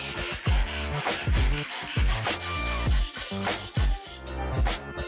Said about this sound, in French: Ce sont surtout les premières dents de la scie qui ont souvent du mal à pénétrer le bois, alors limez-les un peu.